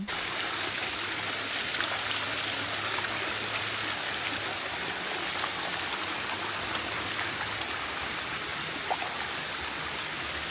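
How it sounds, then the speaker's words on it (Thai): Waterfall of clean, very cold water flowing down from the mountain behind a riverside homestay in Thong Pha Phum, a steady broadband rush of falling water that stays constant and close throughout, with no talk. "น้ำตกที่เราเห็นเนี่ย เขาบอกว่าเป็นน้ำที่ไหลลงมาจากภูเขา"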